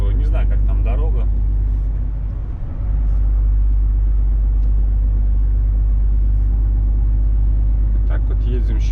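A car travelling the Vologda–Rybinsk road, its steady low engine and road rumble droning close and loud throughout beneath someone talking.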